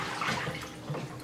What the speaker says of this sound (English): You just fill that up with water